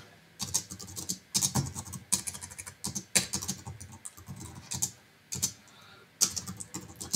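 Steady typing on a computer keyboard while a holiday email is composed: bursts of close, crisp key clicks broken by short pauses, with no talking.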